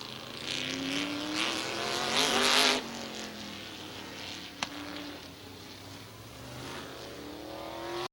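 Race cars in a heat race at Midvale Speedway, a dirt or short oval track with a dozen cars, roar past as engines rise in pitch and swell to a loud peak before fading to a steady distant drone, with a brief sharp crack midway.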